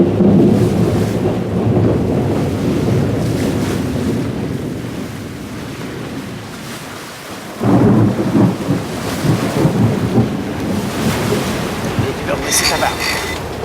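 A storm on the Mediterranean Sea brings heavy rain, wind and surging waves in a steady roar, with a low rumble of thunder swelling partway through; faint voices sit under the noise.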